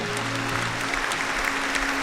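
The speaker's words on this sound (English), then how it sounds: "So a round of applause to all of you for that." An audience claps in a brief, even burst of steady applause, with a faint sustained tone underneath throughout.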